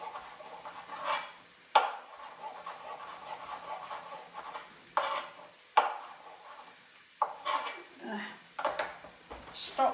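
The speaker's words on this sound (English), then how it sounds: "So I'm just roughly chopping this" A knife knocks against a cutting board in scattered, uneven chops while roughly chopping turkey, close and fairly quiet, with a voice talking between them.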